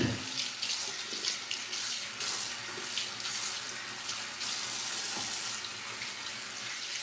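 Water runs steadily from a tap into a sink while hair is wet, a continuous broad hiss and splash at moderate level throughout with small fluctuations, no voices.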